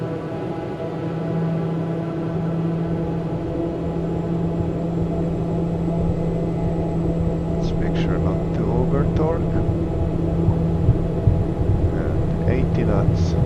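The twin engines of a Piaggio P180 spool up to takeoff torque in Microsoft Flight Simulator 2024, a loud, steady droning roar with a constant hum, while a voice talks faintly underneath partway through.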